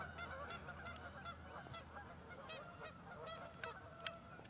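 Geese honk repeatedly at a distance on an open disc golf course at Winthrop University, a string of short calls rising over steady outdoor background noise, with one sharper honk near the end.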